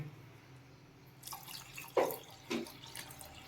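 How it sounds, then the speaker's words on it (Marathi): Water is poured into a pot of taro-leaf curry, giving a couple of brief splashing drips after a quiet lead-in, close but soft, with no talking. "आता ॲड करूया पाणी"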